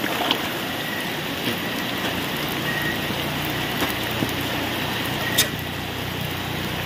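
Heavy rain pours in a dense, steady hiss that stays loud and even throughout, with faint voices and occasional knocks beneath it.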